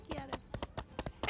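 Quick, crisp clip-clops from a steered horse in My Time at Sandrock land in a regular trotting pattern of about eight hoofbeats, near and distinct, with nothing else competing.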